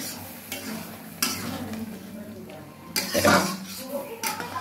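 Green moong dal poured into a hot, sizzling tadka in a pan, with a burst of frying hiss and some stirring and pan clinks, close and moderately loud amid kitchen background.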